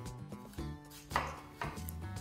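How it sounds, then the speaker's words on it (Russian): A knife chops an apple into small pieces for puff pastries, a few sharp cuts landing over steady background music. "нарезать яблоко на мелкие дольки"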